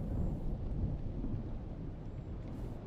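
A thunderstorm rumbles in the Dune Awakening video game, a low, continuous roll of thunder with rain-like noise, moderately quiet and steady throughout.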